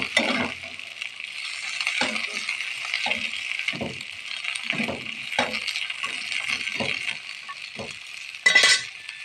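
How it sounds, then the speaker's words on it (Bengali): A spiced mixture with salt and turmeric is stirred in a sizzling pan, with repeated scraping strokes over a constant frying hiss and a brief clink near the end. "এবার আমি এটাকে নাড়াচাড়া দিব ভালো করে।"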